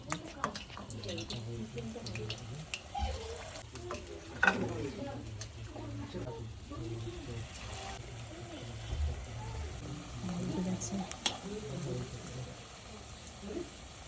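Duck meat pakoras frying slowly on a low flame give a soft, uneven sizzle with occasional stirring clinks, largely under a person talking nearby.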